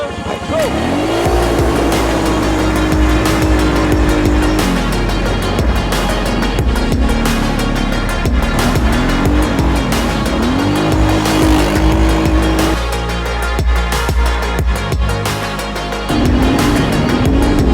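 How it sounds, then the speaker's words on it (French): Yamaha Banshee quad at full throttle on a race track, its engine screaming loud and close throughout with rising and falling revs through gear changes, a brief dip mid-run, then winding up hard again. "Le quad est chaud. La piste est libre. À fond."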